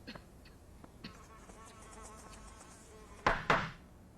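Houseflies buzz faintly in a room, a thin whining drone under scattered ticks and taps, then two sharp loud swats land in quick succession near the end.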